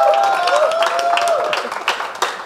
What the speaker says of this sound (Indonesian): Boleh minta tepuk tangannya dulu teman-teman semuanya ada di sini.